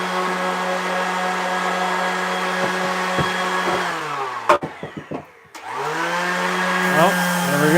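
A small handheld power sander whines against a carved wooden tiki porch sign, running steadily, then bogging and stuttering through several short bursts before spinning back up to a steady drone.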